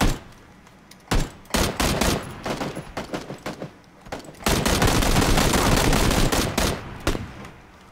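Gunfire in PlayerUnknown's Battlegrounds, loud close bursts of rapid automatic shots with short gaps, building into a long sustained stretch of continuous fire.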